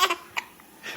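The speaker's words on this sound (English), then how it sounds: "She doesn't know whether to hiccup or to cry." A baby girl gives a few short, quick hiccups, close and fairly soft, with brief gaps between them.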